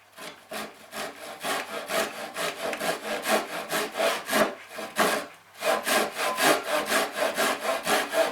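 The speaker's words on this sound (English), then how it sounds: "cut the other side to the same length" A hand saw cuts through wood for a simple box, its strokes rasping back and forth in a steady rhythm, close and clear with a brief pause midway and no talking.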